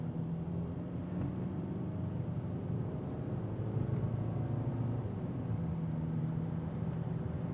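Inside a Subaru Outback on a test drive after a used propshaft replacement, a steady low road and driveline drone with smooth, even tyre rumble continues throughout, with no talking.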